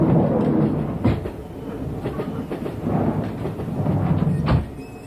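A passenger train rolls along the rails in a 1980s South African setting, giving a steady low rumble with intermittent clacks and thumps over the joints, close and continuous with no talk.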